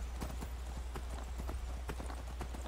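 Rapid galloping horse hooves in the video game Skyrim, a brisk clip-clop rhythm of close, sharp impacts over a low steady rumble.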